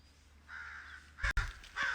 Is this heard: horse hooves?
no